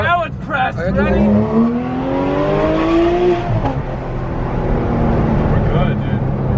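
A Porsche engine with the exhaust button pressed, loud and close, climbing through a long rising rev, then settling into a rumbling cruise with another brief surge, voices talking over it.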